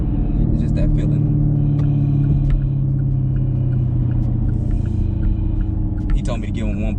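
A tuned Chevrolet Camaro SS engine pulls hard under full throttle, a loud deep rumbling drone with rising harmonics, close and sustained, broken near the end by a brief shift in tone.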